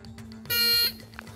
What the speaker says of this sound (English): I don't know why I pressed the buzzer, sorry.